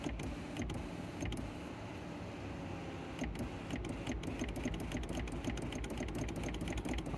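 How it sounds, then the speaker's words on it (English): A Mercedes-Benz electric sunroof motor runs as the sunroof opens, a steady mechanical drone with a rapid ticking rattle throughout, close and continuous. "Then what you want to do is you want to open the sunroof"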